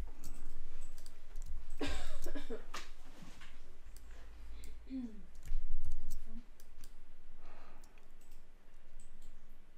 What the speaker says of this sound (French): il faut que je clique à côté, que je reclique dessus